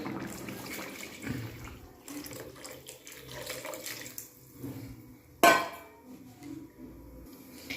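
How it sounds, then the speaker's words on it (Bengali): Water is poured into a pot of thin winter-vegetable khichuri with boiled dal and softening vegetables, making a steady, low splashing rush with one sharp clatter partway through. "এবার আমি এতে দিয়ে দেবো পরিমাণ মতো আর একটু জল"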